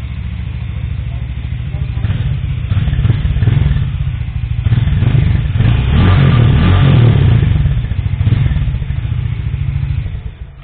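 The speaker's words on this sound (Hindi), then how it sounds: "अभी मैं आपको इसका साउंड भी चेक कराऊंगा कि साउंड कैसा है इसका 440 सीसी के हिसाब से" Engine of a 2024 Hero Mavrick 440 motorcycle, 440 cc, with its exhaust, a loud close deep idle rumble that revs up and settles over about ten seconds.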